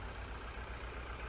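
A freshly rebuilt Honda B18B engine idles just after its first start, giving a steady low rumble that stays even and continuous throughout, with no talk over it.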